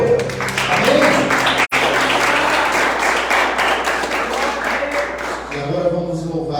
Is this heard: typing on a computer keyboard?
no